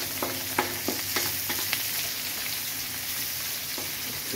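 Ginger sizzling in hot oil in a pan for Filipino laing, a steady close crackle with a few sharper pops early on, no voices over it.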